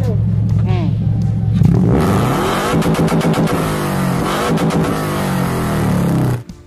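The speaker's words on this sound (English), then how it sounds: "this engine is more open to revving higher than the new version that tries to rein you in when you reach the upper RPMs" A tuned 2010 Toyota Corolla Altis 1.6G engine with K&N cone filters on a short ram intake revs up loudly, climbing in repeated rising pulls and holding high RPMs close by before cutting off abruptly.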